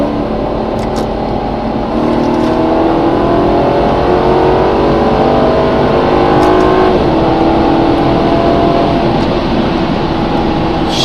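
A 2009 Maserati Quattroporte GTS engine revs up and accelerates loudly in manual mode, pitch climbing through gears with a brief shift, close and continuous.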